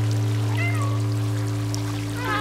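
A person imitating cat meows over game sound from Stray: brief high, wavering meow-like calls over a steady low electronic hum and a continuous background wash.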